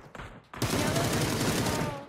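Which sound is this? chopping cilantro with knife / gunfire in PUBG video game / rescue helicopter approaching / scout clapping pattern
gunfire in PUBG video game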